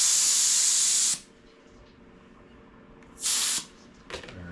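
Air hisses loudly out of a tire inflated to about 80 psi on a 1970 Schwinn Collegiate bicycle, in two bursts: a long one-second release, a pause, then a shorter one.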